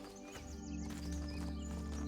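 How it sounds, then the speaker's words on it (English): Horse in the video game The Talos Principle 2, heard as soft, rhythmic clip-clop hoof steps with a faint whinny layered over a dense, steady ambient game soundtrack. "There's the horse."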